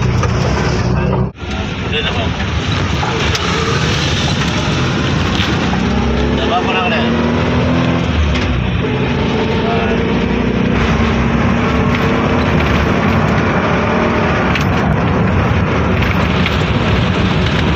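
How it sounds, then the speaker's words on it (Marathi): Inside a moving auto rickshaw, a steady engine drone and wind rumble continue throughout, loud and close, while people talk over the noise. "आपल्याला डायरेक्ट रिक्षा मिळली आता"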